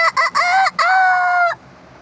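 Chickens clucking close by in a short burst of several loud squawking calls, then quiet background.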